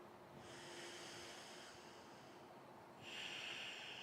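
A slow, soft breath during a yoga flow, a long airy inhale followed by a gentle exhale, close to the microphone and quiet.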